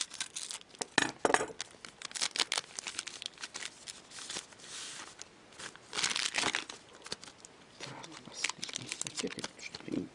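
Plastic wrappers on KHL hockey card packs crinkle and tear close by as the packs are opened, a faint, irregular rustling with a voice talking at times.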